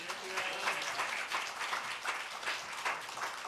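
A church congregation claps warmly to welcome the associate pastor to the pulpit, a steady, fairly soft and somewhat distant patter of many hands sustained throughout.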